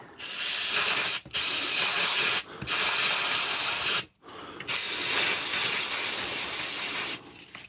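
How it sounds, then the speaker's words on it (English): Aerosol brake parts cleaner hissing in four long bursts, each a few seconds long, with short silent breaks between; loud and close, no voices. "This is brake parts cleaner."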